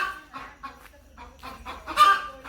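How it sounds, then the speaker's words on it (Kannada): Native chickens cluck inside a chicken shed, a close series of short, uneven clucks and squawks, with one louder call near the end. "ಇದು ಕೋಳಿ ಶೆಡ್,"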